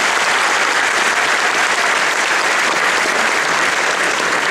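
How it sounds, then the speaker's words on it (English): Loud, sustained applause from a large audience at a religious lecture, dense and unbroken clapping that stays level for the whole stretch. "A special round of applause for the moms that have been standing to keep their babies calm"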